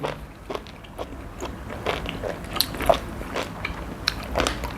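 Crunchy, spicy Thai papaya salad with cuttlefish being chewed close up, with a run of crisp bites and moist crunching that rises and falls over about five seconds, and no talking.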